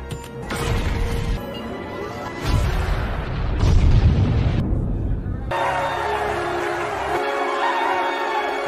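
Heavy booming blasts and crashing rumble from a movie scene, several loud surges with a dramatic score and voices mixed in.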